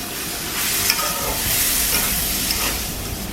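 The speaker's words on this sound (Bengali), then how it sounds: "নেড়ে দিচ্ছি।" Water lily and prawn curry, with green chilli slices and chopped coriander added, is stirred in a pan over low heat. A steady sizzle runs throughout, with soft scraping stir strokes.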